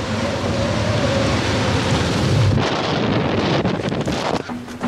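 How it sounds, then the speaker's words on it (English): A strong wind gust roars across the microphone aboard a sailboat in heavy, soaked conditions near 50 knots, a loud continuous buffeting rush with water and hull noise beneath, easing briefly near the end. "We've just hit like a really strong gust."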